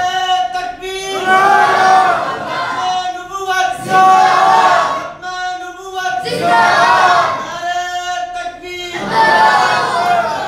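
A large mosque congregation at a Friday sermon roars a religious slogan in unison, four loud swelling shouts in regular rhythm with short pauses between.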